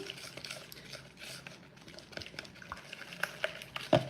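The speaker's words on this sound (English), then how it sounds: "And then we're going to stir it up." A chili sauce mixture for salmon bites is stirred by hand, giving soft scraping and light utensil clinks in an irregular rhythm, fairly faint and close, with a few sharper knocks near the end and no speech.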